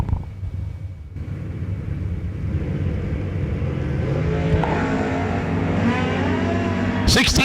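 Drag racing at the New Year Nationals with a Pontiac Grand Am and an S10 pickup truck: a steady, loud engine rumble holds throughout, swelling slightly as the cars rev, with a sharper burst at the very end.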